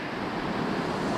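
A creek swollen by flooding rushes in a steady, dense roar of water near Ellenborough Falls, close and unbroken with no voices.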